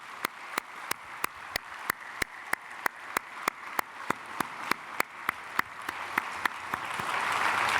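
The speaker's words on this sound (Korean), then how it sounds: "앞으로 나오실 때 우리 박수로 환영하겠습니다" A church congregation at a Sunday service applauds in a steady, rhythmic unison clap, each clap sharp and evenly spaced, with the noise swelling toward the end.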